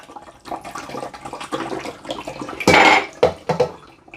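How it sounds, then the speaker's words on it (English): Cold tap water pours in uneven bursts into the funnel-like rear reservoir of a Keurig K-Brew+Chill coffee maker, with a louder rush of splashing and gurgling toward the end and a few plastic clunks nearby. "you've got to fill this up back here. It's got like a big, you can pour the water. It's like a funnel."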